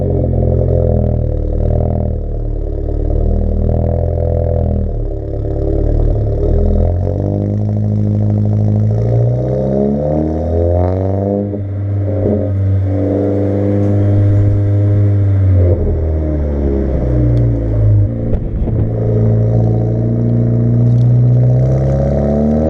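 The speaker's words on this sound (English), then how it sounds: "Initial thoughts on the AWE track exhaust for the A4." A 2017 Audi A4 B9 fitted with an AWE Track Edition exhaust, its engine droning loudly and rising and falling in pitch as it revs and accelerates, close and continuous throughout.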